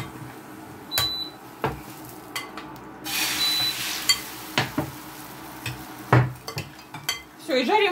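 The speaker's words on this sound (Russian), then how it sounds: "и жарим вторую порцию" An omelette fries in a pan while a utensil clinks and scrapes against it several times, irregular clatters over a soft frying hiss.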